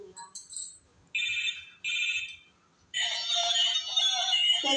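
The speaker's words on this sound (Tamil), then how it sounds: "இந்த ஃபோனோட சவுண்டு கேட்குறீங்களா?" A gift toy phone plays its ringtone: bursts of bright electronic beeping tones, two short repeated chirps and then a longer warbling tune, fairly faint and close.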